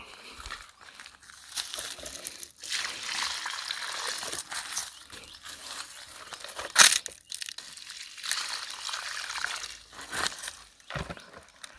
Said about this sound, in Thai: หยดน้ำลงไปนะครับเทน้ำลงไป